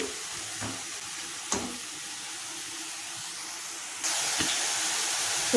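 Fresh coriander leaves fry in a pan with a quiet, constant sizzle, dotted by a few light clicks of utensils. The hiss turns noticeably louder near the end, with no voices.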